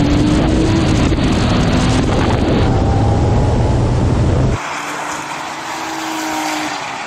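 A Porsche 911 Turbo of the 993 generation roars hard as it accelerates in a drag race, its engine note climbing through the gears, loud and close at first, then dropping away to a quieter, more distant drone with wind noise.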